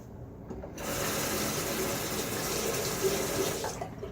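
Tap water runs steadily from a faucet to rinse lather from a Blackland Dart safety razor at a sink, a continuous close hiss with faint clinks, starting and stopping within a few seconds.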